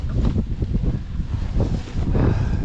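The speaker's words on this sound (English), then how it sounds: "whoa, getting windy." Gusts of wind buffeting the microphone at a car camping site with a hammock set up, a rumbling, blustery roar that surges and eases through the short stretch.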